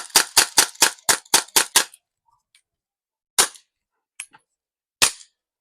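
Eight rapid sharp pops from a full-metal CO2 airsoft revolver in quick succession, followed by a pause and a few more scattered, loud shots.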